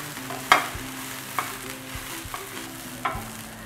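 Cluster beans stir-fried in a pan for a Marathi gavarichi bhaji, with a few sharp scraping clatters of the spatula against the pan and a soft, steady sizzle underneath.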